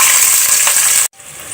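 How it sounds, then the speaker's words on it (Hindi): Chopped onions hit hot oil in a cooking pot, giving a loud, dense broadband sizzle that holds steady and then cuts off abruptly before a quieter frying hiss resumes. "अब इसमें प्याज डाल देंगे।"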